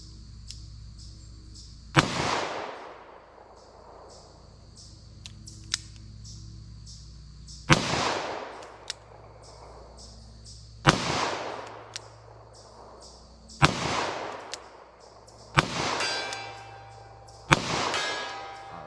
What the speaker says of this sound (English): Now our Gold Dot, a little better quality ammo, but that doesn't necessarily mean it's going to shoot through this revolver very good.